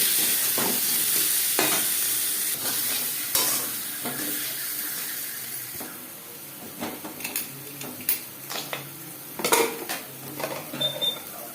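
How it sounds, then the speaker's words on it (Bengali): Potatoes frying with salt and turmeric in a pan for a Bengali mutton and potato curry, a steady sizzle with repeated scraping stirs and clinks of a utensil against the pan, close and clear, with no talk. "আলু গুলো নেব লবণ হলুদ দিয়ে আলু ভেজে নেব"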